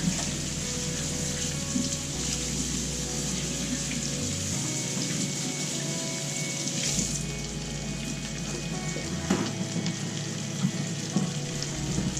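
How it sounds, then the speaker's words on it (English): Hands being rinsed under a running kitchen tap, a continuous close splashing stream of water with small shifts as the hands move through it. "Let me rinse my hands off again."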